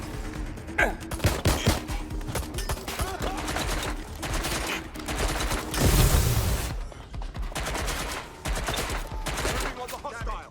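Gunfire in the video game Watch Dogs Legion: dense, loud volleys of rapid shots and bursts that carry on almost without pause, with a brief heavier blast in the middle and faint voices beneath.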